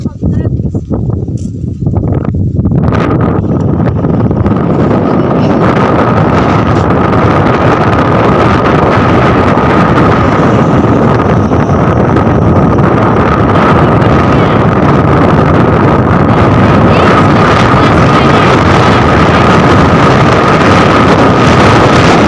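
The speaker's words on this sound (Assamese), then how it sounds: "কি ধুনীয়া বতাহ দি আছে একচুৱেলি" Strong wind blows near a bridge, a loud, continuous roar buffeting the microphone that starts after a couple of seconds and holds steady to the end.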